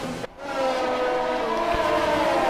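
An onboard McLaren Formula 1 car engine at the U.S. Grand Prix in the F1 20 video game makes a steady, loud, high-pitched whine that dips briefly, then holds strong and constant.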